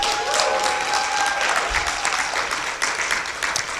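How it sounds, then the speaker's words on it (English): An audience applauds at a small business taxes talk, a steady, dense clapping that holds evenly for the whole stretch, close and full, with no voices over it. "Let's give her another hand clap"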